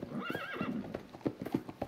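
In Red Dead Redemption 2, a horse whinnies with a rising, wavering call while hooves clop in an uneven rhythm, close and clear.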